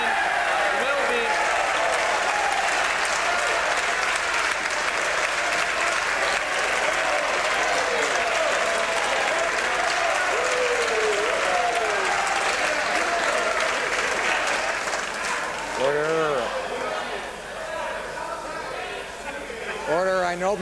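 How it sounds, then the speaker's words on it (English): Members of the Canadian Parliament applaud in the chamber, a dense, sustained wall of clapping and desk noise that fades slightly near the end as a voice cuts through. "I know members are anxious to applaud the Prime Minister"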